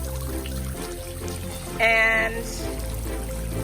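Water sprays constantly from an outdoor 67-inch LANXU kids' splash pad sprinkler fed by a hose. A steady hiss and patter fills the clip, with a brief louder surge in the middle.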